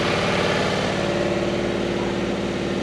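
Uncovered 0.7-litre two-cylinder range-extender engine of a BMW i3 REx runs steadily at idle, loud and close, with a continuous throbbing mechanical drone and no talk.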